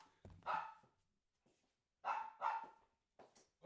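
A pet dog barks close by in a quiet room, sharp repeated barks in two short bursts with pauses between them.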